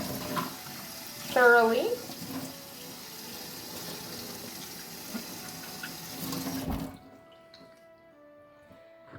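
Tap water runs steadily as wet palette parts are rinsed, a continuous close splashing wash under a voice, with a brief clatter of handled pieces before the flow shuts off near the end, leaving quiet room tone.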